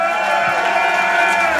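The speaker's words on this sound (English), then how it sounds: "Round of applause right now." A crowd at a live rock show in Henderson, Nevada cheers and applauds for the venue, a steady roar of voices and clapping with a ringing tone running through it.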